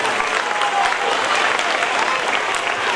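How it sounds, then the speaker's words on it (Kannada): Loud, sustained applause from a crowd of parents at a school event, dense clapping filling the whole moment without letup. "ಅದಕ್ಕೆ ಒಂದು ಜೋರಾಗಿ ಚಪ್ಪಾಳೆ ನಮ್ಮೆಲ್ಲ ಪಾಲಕರ ಪೋಷಕರಿಗೆ ಬರಬೇಕು"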